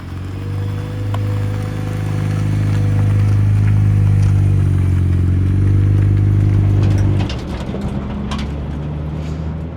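A turbocharged K20-swapped Honda Civic EG rolling over gravel on sticky drag tires, its engine droning loudly and steadily before easing off, with scattered stone crackle and pops near the end.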